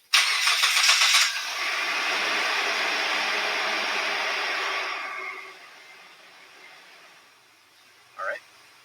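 A car engine starts outdoors with a loud burst, then runs at a steady mid-pitched level for several seconds before fading into a quieter rumble, followed near the end by a short, sharp sound.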